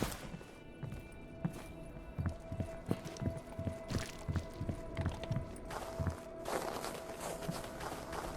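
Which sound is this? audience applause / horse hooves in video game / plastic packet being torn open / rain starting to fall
horse hooves in video game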